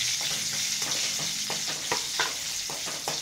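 Ivy gourd frying with salt and chillies in a pan, a steady sizzle broken by repeated soft scraping strokes of stirring, close and clear with no talk.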